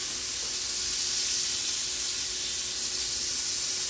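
Chicken and shrimp sauté in a pan for carbonara, giving off a steady, dense sizzle and hiss that holds at an even level from start to finish, with no talking.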